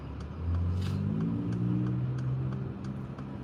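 A 2017 Mercedes G 63 Wagon engine hums steadily while creeping through rush-hour traffic, a low continuous drone rising slightly as it pulls forward, with faint ticking over it.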